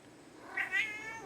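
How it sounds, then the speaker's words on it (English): An indoor house cat gives two short, close meows in quick succession, high and tonal against a quiet room. "Hey, kitty."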